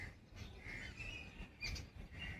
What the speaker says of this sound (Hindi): चिड़ियों की आवाज़ आती हुई